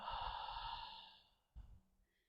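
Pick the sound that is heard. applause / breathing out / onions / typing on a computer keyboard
breathing out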